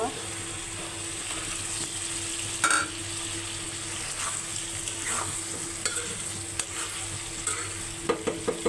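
Fried eggs are stirred into a simmering curry, giving a steady soft sizzle of frying with occasional scraping and stirring clicks from the pan, heard alone at moderate volume.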